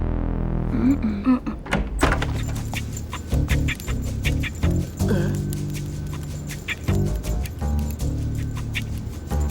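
A person imitates a mechanical dog, giving choppy, rhythmic barking and clunking noises made by voice, loud and close, mixed with thuds and short bursts of voiced sound in an animated French episode.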